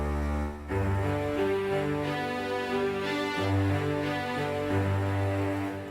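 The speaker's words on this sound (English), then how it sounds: "Next, the string section." A sustained string section in a music production plays full, layered chords that shift slowly through a lush, dense ensemble texture. It stays loud and continuous, with no voices.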